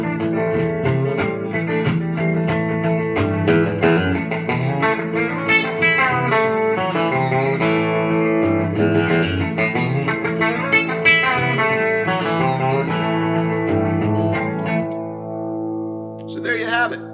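An electric guitar plays a melodic lick over a steady rhythm part, with effects-laden tone, loud and continuous, ending with a brief bright flourish.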